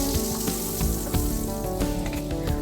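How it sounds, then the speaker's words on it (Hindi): Butter sizzles in a frying pan while pasta is being made, giving a loud, close, steady crackling hiss with occasional sharper pops and faint clinks, and no talk. "इधर मैंने बटर ले लिया है,"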